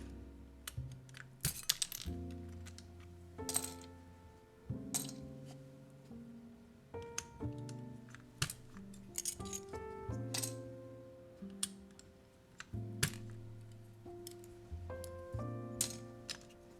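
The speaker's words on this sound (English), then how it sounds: "Keycaps go flying." Plastic keycaps from a Frog TKL keyboard build drop and scatter across a hard surface, a series of sharp clicks and bright tinkling clinks in irregular bursts, close and fairly quiet, with no talking.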